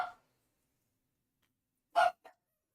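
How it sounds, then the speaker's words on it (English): A dog barks from somewhere in the background: a short muffled bark near the start, then a louder bark followed by a quick softer one, with quiet stretches in between. "I hear him in the background just barking"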